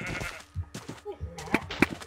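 Sheep bleat in a video game, a few short nasal cries in quick succession, near and fairly clear, with faint voices in the background.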